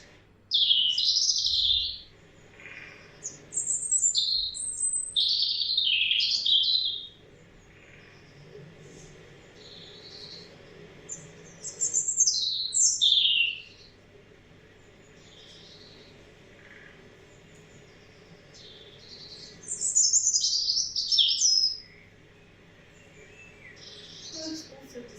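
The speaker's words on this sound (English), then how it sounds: "birds also vocalise just because they want to" Wild birds singing outdoors: several bursts of bright, high chirping and warbling phrases separated by quieter pauses, with a faint steady background hum.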